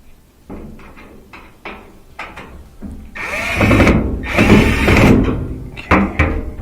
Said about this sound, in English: Just tighten that up with the screwdriver.